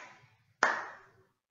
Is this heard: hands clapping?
yes